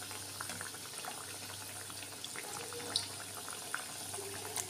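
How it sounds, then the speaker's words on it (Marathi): Corn cutlets deep-frying in hot oil give a steady, low bubbling hiss with faint crackles and a couple of small pops, close and continuous, with no one talking. "असे सगळे तळून घ्यायचे कटलेट."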